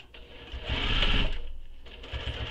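A sewing machine runs steadily while top stitching the zipper closure of a fabric tote bag, a close, loud whirring hum that rises and eases over a couple of seconds, with no talking.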